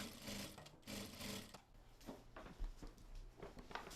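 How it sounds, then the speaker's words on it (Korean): A home sewing machine stitches through old clothes being remade into small items, running in steady bursts with short pauses, close and clear with no talk. "재봉틀만 사용할 수 있다면 가정에서도 가능하다"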